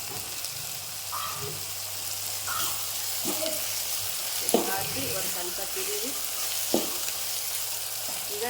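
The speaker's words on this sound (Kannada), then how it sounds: "ಈಗ ಟೊಮೆಟೊವನ್ನು ಫ್ರೈ ಮಾಡಿ" Chopped tomatoes fry in a home kitchen pan with curry leaves, coriander and salt, a steady soft sizzle with occasional scraping stir clatters and small knocks.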